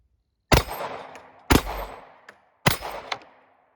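Three SA35 pistol shots fired at a range, evenly spaced about a second apart, each a sharp loud crack with a ringing tail and a faint metallic ping as rounds strike steel targets.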